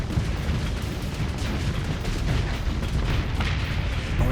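Missile launches roar in Starsector space combat, a continuous low rumbling barrage of booms and blasts blending into a steady, dense wash of fire without pauses.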